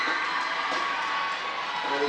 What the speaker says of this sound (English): They're still cheering their team on.